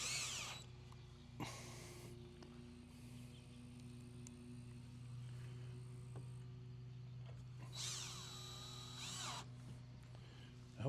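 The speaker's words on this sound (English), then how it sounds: "let me put the rest of them screws in them hinges" A power drill whirs in short bursts, driving screws into the hinges of a quail cage. Between the bursts comes a lower steady hum and faint handling noise.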